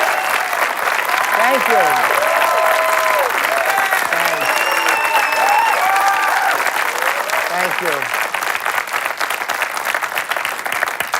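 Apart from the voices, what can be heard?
studio audience applauding the host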